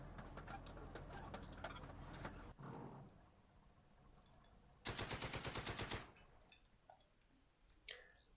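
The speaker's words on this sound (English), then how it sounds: "Oh, those fucking machine guns." Machine gun fire in the war game Second Front, an Italian village setting: dense rattling bursts early on, then a sharp, close burst of rapid shots about a second long, with scattered clicks and a voice talking in between.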